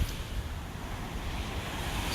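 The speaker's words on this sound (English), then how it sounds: "waves out here, but they're definitely getting smaller" Ocean surf washes steadily onto the beach at Delnor-Wiggins Pass State Park, a continuous broad rush of small waves mixed with breezy wind noise across the microphone.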